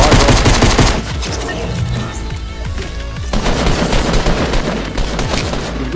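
Rapid automatic and single gunshots from the Fortnite video game, loud and dense throughout, with bursts of fire continuing alongside game sounds and no clear talk.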